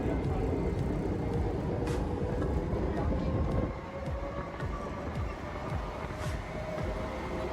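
A Budapest tram rides along the Danube embankment on the Pest side, giving a steady, loud rolling rumble with rail noise throughout and a slight easing in the second half.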